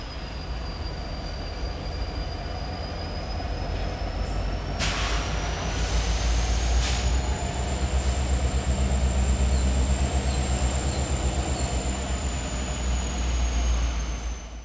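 Coal train locomotives rolling steadily along the railroad at close range, a continuous low rumble with a long, sustained wheel squeal whining above it and a few sharp clanks midway.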